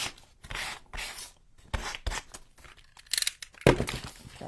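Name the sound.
light sanding of wood with 320 grit sandpaper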